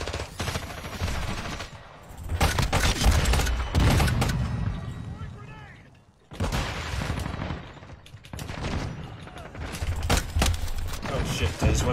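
Rapid video-game gunfire with an infinite-ammo weapon, dense bursts of shots rattling loudly across most of the stretch, broken by a short pause midway, with players talking and shouting over it.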